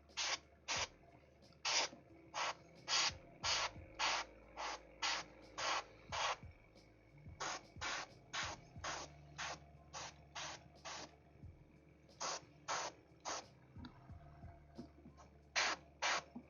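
An airbrush sprays paint onto a scale model in repeated short bursts, each a sharp, close hiss separated by brief pauses, keeping an irregular stop-start rhythm throughout.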